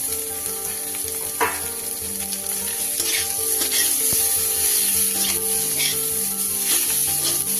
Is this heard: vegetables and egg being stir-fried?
yes